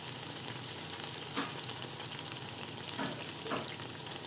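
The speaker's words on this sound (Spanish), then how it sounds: "ya se está friendo el aceite" A corn-masa quesadilla frying in hot oil, giving a continuous dense crackling sizzle throughout with a few faint clinks, steady and close, no one speaking.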